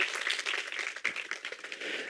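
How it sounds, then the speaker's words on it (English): A roomful of listeners claps for the speakers after a pitch event talk, fairly quiet and distant, with irregular bursts and a brief dip before the applause swells again. "can everyone please join me in giving a big round of applause to our speakers today"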